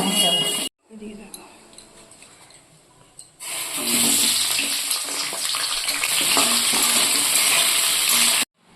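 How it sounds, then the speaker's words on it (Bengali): Loud, dense sizzling of vegetables frying in a large wok follows a brief quieter stretch with a voice and soft clatter; the hiss cuts off at the end. "এখানে দেখো কড়াই এখন সমস্ত সবজিগুলো ভেজে নিচ্ছে"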